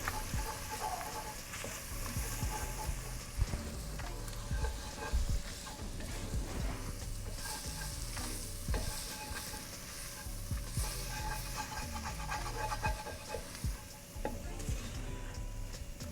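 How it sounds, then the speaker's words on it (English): A flour and butter roux cooks in a soup pot, giving a soft, continuous sizzle with scattered stirring scrapes and ticks. The sound stays quiet and close throughout, with no voices. "Make that roux with that butter."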